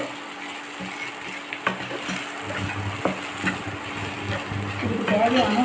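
Masala frying in a pan for mango rice, a steady broadband sizzle running throughout with scattered scrapes and clinks, growing slightly louder near the end.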